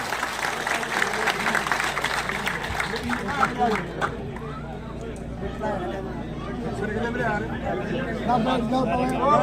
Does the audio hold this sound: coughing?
no